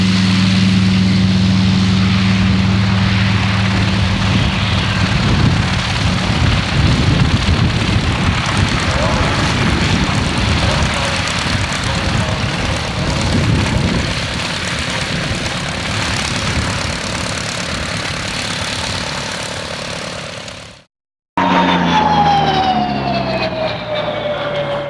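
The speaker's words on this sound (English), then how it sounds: "A roar from the Pratt & Whitney 1830 Wasp radial engine, and plenty of smoke" A loud, steady roar from a Pratt & Whitney 1830 Wasp radial engine at full takeoff power in a CAC-19 Boomerang WW2 fighter, dropping briefly to silence before a rising whine and engine hum return.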